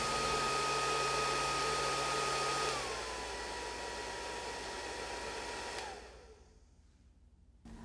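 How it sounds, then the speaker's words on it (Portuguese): A hair dryer blows air into a glass tube, a loud steady whooshing whine that drops in pitch partway through, then spins down and cuts off near the end, leaving near silence. "quando ligamos o secador, o vento é canalizado para dentro do tubo"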